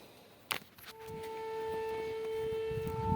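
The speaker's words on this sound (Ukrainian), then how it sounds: "сирена волає" Air raid siren wailing outdoors near a greenhouse garden, a steady two-tone drone sustained after a brief thump, fairly distant and continuous.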